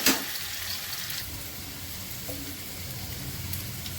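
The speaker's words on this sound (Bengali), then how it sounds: "ওলগুলো একটু ভাজা হবে।" Pieces of elephant foot yam fry in oil tempered with dried chillies and cumin, giving a steady close sizzle after a brief sharp hiss at the start, with no talk.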